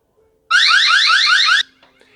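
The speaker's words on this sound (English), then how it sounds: "just press on the icon alarm, listen." A Eufy indoor security camera's loud electronic alarm wails in rapid rising sweeps for about a second, then cuts off abruptly, leaving faint room noise.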